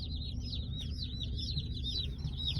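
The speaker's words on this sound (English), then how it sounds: "Got some chicks. Got to get them home. They've had a long journey." A box of newly delivered baby chicks just collected from the post office, a dense continuous chorus of high, rapid peeping heard up close over a low rumbling background.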